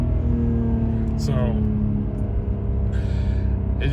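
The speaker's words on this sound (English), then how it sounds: "as you can probably hear, that's sport mode there, so it's holding on the gears." BMW 640i engine in sport mode, holding gears with a steady low droning rumble that shifts pitch midway, heard from inside the luxury car with faint background noise.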